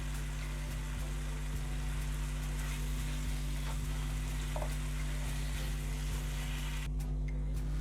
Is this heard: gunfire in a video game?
no